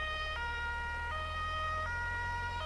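A two-tone emergency vehicle siren in the firefighting game Werk Feuerwehr Simulator 2014 alternates its pitch steadily about every three-quarters of a second, loud and continuous over a low engine rumble, with no voices.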